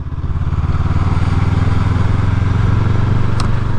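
A 2022 Honda CB500X adventure motorcycle cruising steadily in fourth gear at about 30 mph, its parallel-twin engine giving a continuous low, even drone with wind rush, close and loud throughout with no talking.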